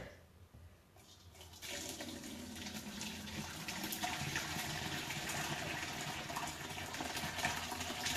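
After a quiet start, liquid begins pouring with a steady, splashing gush that grows slightly fuller and continues to the end.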